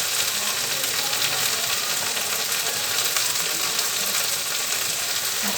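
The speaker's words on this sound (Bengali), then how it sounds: "তেল দিয়ে দিলাম এবারে এটাকে পাঁচ সাত মিনিট একটু ফুটিয়ে নেব" Oil goes into a simmering tangra fish curry, and a steady, even sizzle and bubbling fill the whole stretch at close range, with no voices.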